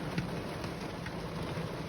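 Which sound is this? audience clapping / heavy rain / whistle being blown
heavy rain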